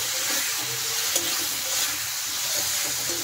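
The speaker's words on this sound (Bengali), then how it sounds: "এখন পেস্ট করা মশলাটা দিয়ে দিচ্ছি। মশলাটা দেওয়ার পরে আরেকটু নেড়ে দেব।" Spice paste fries in a pan of a fish and potato-cauliflower curry, a loud continuous sizzle and hiss with light stirring scrapes throughout, close and steady.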